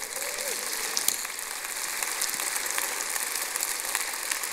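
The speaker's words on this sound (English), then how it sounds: "Give Jesus a hand clap for that." Congregation clapping at a Sunday evening campmeeting church service, a steady sustained wash of many hands applauding at moderate distance, with no speech over it.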